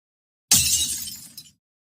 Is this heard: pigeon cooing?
no